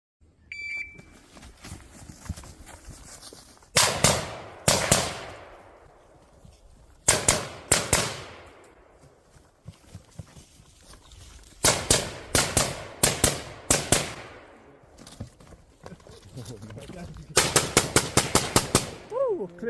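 Rapid gunfire rings out in clustered bursts at a two-gun close-quarters shooting competition, sharp loud shots in quick strings separated by short pauses, with an electronic start beep at the beginning.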